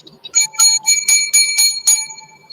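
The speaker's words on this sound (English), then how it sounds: "7 lucky bells for Fandango Friday" A bell rung seven times in quick succession, bright ringing strikes close up with short pauses between, alone without talk.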